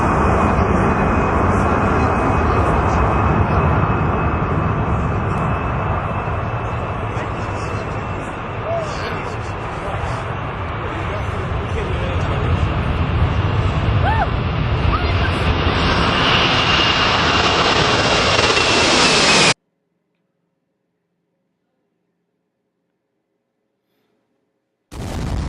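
An airplane engine drones in flight over the Atlantic Ocean, a loud, steady roar close by that holds for about twenty seconds and then cuts off abruptly into silence.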